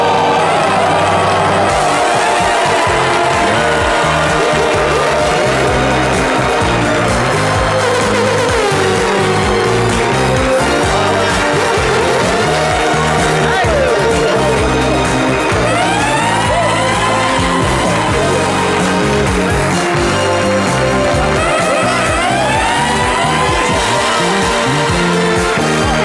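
A crowd cheers and applauds over loud, continuous music as the retired footballer Didier Zokora is welcomed onto a stage show, a dense, sustained wash of sound that lasts throughout.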